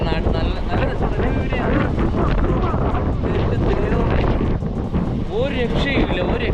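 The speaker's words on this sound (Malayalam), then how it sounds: "ശരിക്കും കാറ്റടി" Strong wind gusts roar across an open area of wind farms near Nagercoil, a loud continuous buffeting rush over the microphone, with people talking throughout.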